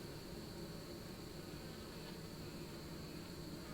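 A honey bee buzzes at a horizontal hive in a faint, continuous drone, steady and unbroken, set against quiet outdoor background noise.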